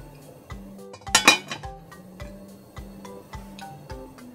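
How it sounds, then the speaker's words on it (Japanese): A lid is set onto a pancake pan with a quick metallic clink and rattle, loud and close, while soft regular ticking continues in the background. "蓋しまーす"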